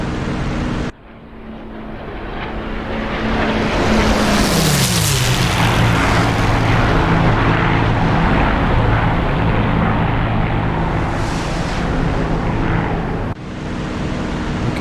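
Piston aircraft engines throttle up in a DCS World flight sim, a loud rising roar that swells and holds for many seconds with a sweeping pitch change early on, no voices over it.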